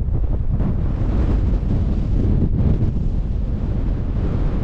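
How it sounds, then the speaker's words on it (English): Strong, steady coastal winter wind buffets the microphone throughout, a loud continuous low rumble and roar with no talking. "bit bleeding windy."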